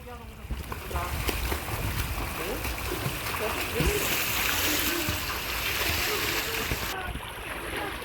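Someone swimming in an outdoor pool churns up steady, continuous splashing and sloshing water, with people talking and calling out over it.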